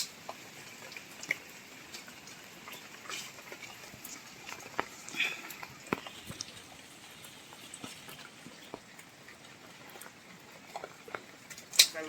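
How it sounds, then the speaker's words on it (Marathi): Rain patters steadily on an umbrella held over a mango seedling outdoors during grafting, with scattered close drops and drips forming a soft, continuous texture. "पाऊस आहे"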